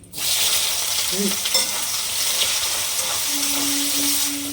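Chopped onions, garam masala and bay leaves sizzling in hot oil and ghee, a steady loud crackling fry with no talk over it.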